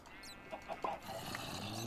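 Chickens in the video game Sky Factory 3 give a few short, quiet clucks in quick succession, heard faintly against a steady background hum with no talking.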